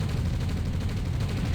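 Continuous battlefield gunfire and explosions from units fighting in the real-time strategy game Red Alert (OpenRA), loud and dense with overlapping rapid shots and low rumbling blasts throughout.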